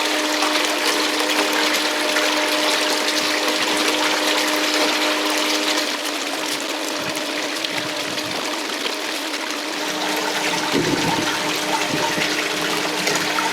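Water runs through a gold sluice washer mat over sand at a restricted flow, giving a steady, loud rushing wash throughout, with no speech.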